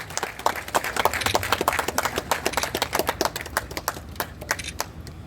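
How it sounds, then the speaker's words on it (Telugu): Guests at a police station CCTV camera inauguration ceremony applauding, a lively burst of many hands clapping at close range that thins toward the end. "ఒకసారి గట్టిగా చప్పట్లతో"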